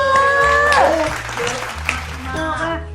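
Applause from an audience celebrating a hit Thai TV drama's strong ratings: a steady, fairly loud patter of clapping mixed with tonal music and voices throughout.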